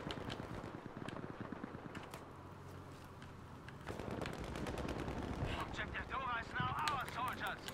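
Rapid gunfire rattles through a Battlefield V match played with an M1928A1, fairly quiet bursts mixed with keyboard clatter, while a player talks over it.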